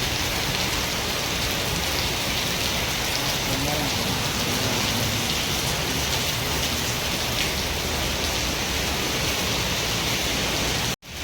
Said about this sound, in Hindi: देखंतु मुंबई रे किभଳି भाବରେ वर्षा होउची